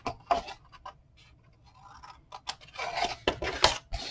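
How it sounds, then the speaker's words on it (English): Scissors snip the corners of a paper cover in several short, crisp, close cuts at an irregular pace, with quiet handling between them. "Now we can go ahead and trim our corners."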